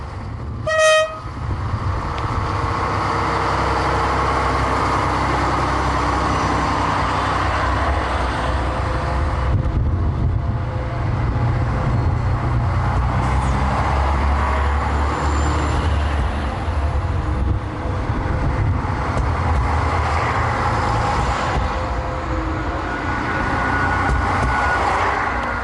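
A new six-engine railcar starting up a mountain ramp in a blizzard on the Alpine line, opening with a short horn toot, then a loud sustained diesel roar and rumble that builds and holds throughout.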